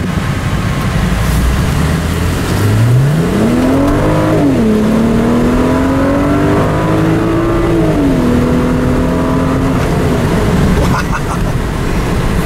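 A 2010 BMW 135 M convertible accelerates on a short test drive, engine note climbing steadily through the revs, shifting and pulling again, loud and continuous from inside the car with wind noise underneath.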